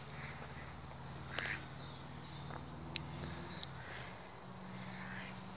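Ducks quacking beside a river path, several faint scattered calls over a steady low hum of background noise, with no talk.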